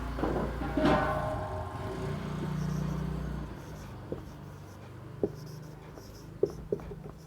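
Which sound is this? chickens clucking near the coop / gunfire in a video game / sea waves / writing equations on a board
writing equations on a board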